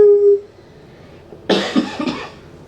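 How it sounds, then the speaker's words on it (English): After a brief hum, a single close cough breaks out in a short burst of two or three rough pulses. "I just coughed on you."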